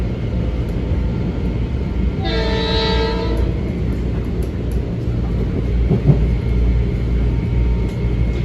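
A Harlem Line M7 electric commuter train pulls out of a station, its horn sounding one steady blast over a continuous loud rumble and rail noise that carries on to the end, with faint clicks on the track.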